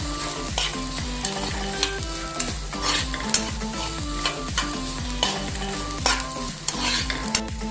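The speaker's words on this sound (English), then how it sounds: "all the cluster bean vegetable which I have chopped. And we'll give it a nice mix." Chopped cluster beans being stirred in a hot pan for a Goan fish thali, with a steady sizzle and repeated scraping strokes of the spoon against the metal, close and fairly loud, with no talking.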